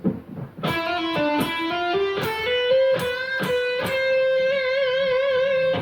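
A distorted electric guitar plays a quick lick from a solo, bends and hammered notes ending on a held note with wide whammy vibrato.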